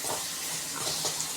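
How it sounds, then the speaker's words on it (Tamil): Chopped onions sautéing in a pan for vegetable Hakka noodles, giving a steady, close sizzle and hiss with faint stirring movement. "ஸோ வெங்காயம் நல்லா வதக்கிக்கோங்க."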